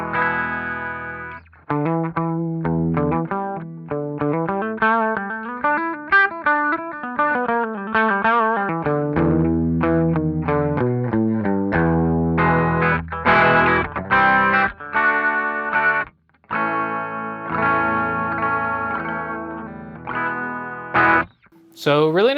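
Electric guitar played through a Peavey Encore amp into an Electro-Voice EVM12S 12-inch speaker, clean-channel chords and single-note lines ringing steadily with slight effects shimmer, close and moderately loud with brief gaps.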